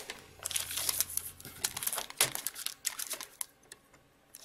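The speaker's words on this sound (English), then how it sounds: "So at this fold, I'm going to cut that off." Folded cardstock being cut and trimmed at the fold for a Valentine's card, giving a run of close crinkly, crisp snips and paper rustles that ease off toward the end, with no talking.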